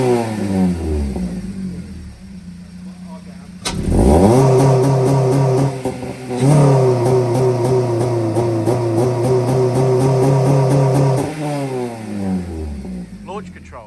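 A tuned Honda Civic FN2 Type R engine revs hard and holds a launch-control limit, with rising sweeps, sustained buzzing plateaus and brief dips, loud and close.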